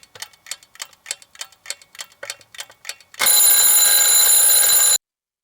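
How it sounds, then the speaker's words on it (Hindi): A phone alarm used as a story sound effect: a run of steady, even clock ticks gives way to a loud, continuous electronic ringing that holds for nearly two seconds and then cuts off abruptly. "फोन अचानक बज उठा।"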